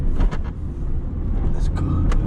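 A Mercedes-Benz SLS with its 6.3 litre V8 fires up in a brief, loud burst of engine sound inside the cabin, then settles into a deep, rumbling idle while someone talks excitedly.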